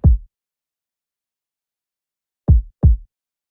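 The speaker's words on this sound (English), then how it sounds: "I added a kick, but for the kick," A punchy electronic kick drum from an FL Studio beat hits alone in near silence: one hit, a long gap, then two quick hits. Each is deep and booming with a short decay.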